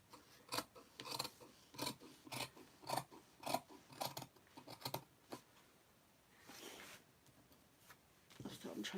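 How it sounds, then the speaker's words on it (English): Fabric scissors snip in a quick series of separate cuts through cloth for a garment mock-up, close and fairly quiet, followed by a rustling slide of material, with speech heard at times. "I'm trying to get my scissors underneath."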